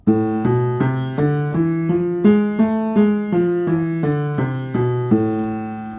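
A melodic instrument plays a harmonic minor scale of evenly spaced notes, one by one, climbing and then descending, clear and close with no talking.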